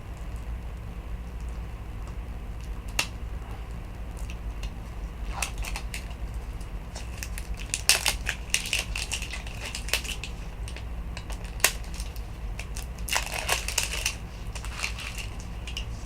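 A foil My Little Pony blind bag crinkles and tears close by with scattered sharp crackles and rustles. The sounds thicken in brief clusters over a low steady background hum, with no talk.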